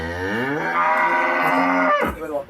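A cow gives one long, loud mooing call close by, its pitch sliding upward and holding before breaking off into a short, rough snort at the end.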